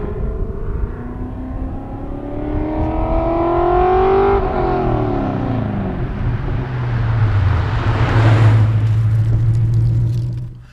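Ford Fox body car with a Coyote V8 swap, its engine revving up in rising sweeps, dropping back, then climbing again to a loud, close roar before cutting off.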